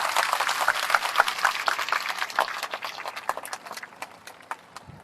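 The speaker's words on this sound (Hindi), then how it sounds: "एक बार जोरदार ताली बजा करके उन्हें धन्यवाद दें।" Audience at a late-night gathering of devotees clapping loudly in a dense burst of applause that gradually thins and fades out, with no speech over it.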